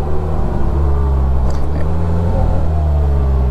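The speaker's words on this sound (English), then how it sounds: "And then you can hear it downshifting and whatnot." 2020 Polaris Slingshot with E-Gear transmission driving on the road, a steady close engine drone with shifts in pitch as it downshifts, wind and road rumble underneath.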